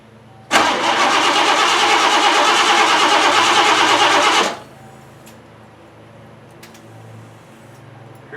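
A 1988 Lincoln Town Car's engine cranks and starts for the first time in years, a loud, steady roar held for about four seconds before cutting off abruptly to quiet background.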